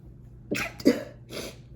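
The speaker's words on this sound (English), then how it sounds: "Sorry. I had to sneeze." A single quick sneeze bursts out, with a short sharp intake and release, then a softer breathy follow-up in a quiet room.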